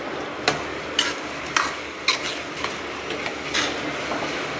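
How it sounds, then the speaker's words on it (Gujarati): A spoon scrapes and knocks against a pan while suran bhaji is stirred, a steady sizzling bed broken by a series of sharp, evenly spaced clacks, close and fairly loud, with no voices. "એકદમ બધી મસ્ત મિક્સ કરી દઈશું"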